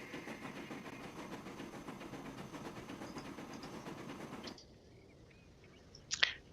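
A train rolling along its track in the transport simulation game Transport Fever 2: a steady low rumble with rhythmic clatter that cuts off abruptly, followed by near silence and one short sharp squeal.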